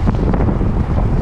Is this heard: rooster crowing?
no